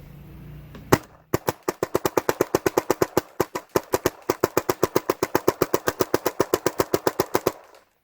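A Tac-One Automag fires one sharp shot, and after a brief pause comes a rapid, evenly spaced string of roughly forty loud pops over about seven seconds, close and punchy.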